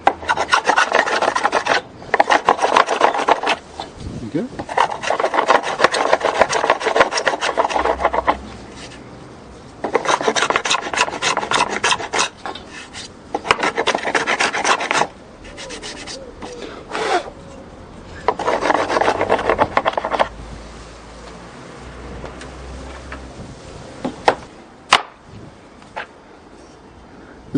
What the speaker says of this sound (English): This is a small smoothing plane which I use to clean up this side.